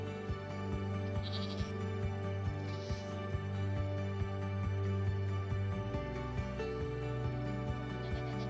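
A goat bleats several times over a steady background of game music and regular ticking sounds.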